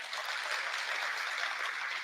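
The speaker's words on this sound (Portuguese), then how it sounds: "Uma salva de palmas" Audience applause for a class of master's students at a national teaching congress, a steady, dense wash of clapping that holds evenly for the whole stretch, moderately distant.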